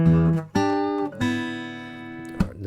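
Acoustic guitar playing a blues lick: three or four plucked, bent notes ringing out between picks, close and clear, with no talking.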